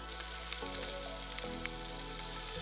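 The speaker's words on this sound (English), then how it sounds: "So, let's get our butter in. I'm gonna melt the butter." Butter melting and bubbling in a pan, a soft steady sizzle with faint popping and crackle, quiet and close with no talk.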